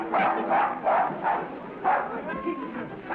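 A dog barks repeatedly in a 1936 film, a run of five or six close, fairly loud woofs in quick rhythm, with voices overlapping at times.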